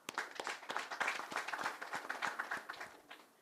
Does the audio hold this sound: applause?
yes